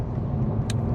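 Steady low rumble of a Toyota Supra with a 6-speed manual cruising toward the highway, a continuous close cabin drone with one brief higher hiss near the end.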